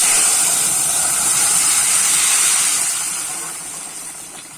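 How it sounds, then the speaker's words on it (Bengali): Rohu fish curry with tender bottle gourd boils in a pan, a steady, fairly loud bubbling hiss that gradually fades toward the end. "ঝোলটা কিন্তু খুব ভালোভাবে ফুটে গেছে"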